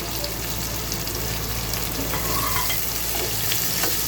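Chopped onions hit hot oil in a pan as poa fish bhuna gets underway, giving a steady, dense sizzle and crackle that holds at an even level throughout, with no voices over it.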